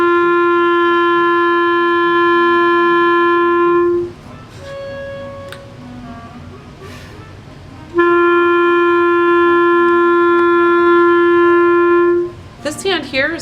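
A clarinet holds a long steady low open G for several seconds, pauses with faint background noise, then sustains the same note again before a brief rustle.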